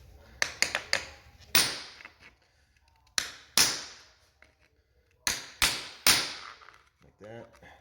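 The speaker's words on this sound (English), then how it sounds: "Now I'm going to get my chisel, and I'm just going to pick the center here and try to split it somewhere along the middle." Sharp metal chisel strikes on a ceramic floor tile being split down the middle, a series of loud, ringing impacts in small clusters of two or three with pauses between, close up and with no talking.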